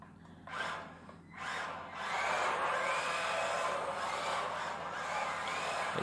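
A Kyosho Mini-Z MA-020 AWD RC drift car runs at half throttle, its small electric motor giving a faint whirring buzz that rises in short bursts before settling into a steady drone.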